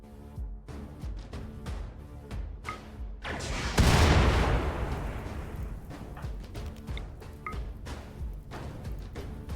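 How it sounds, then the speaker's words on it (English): Grenade blasts in the video game Inquest of the Dead: a big booming burst near the middle rolls out into a long rumbling decay, with scattered sharp gunfire and combat clatter before and after. "And they're throwing grenades there."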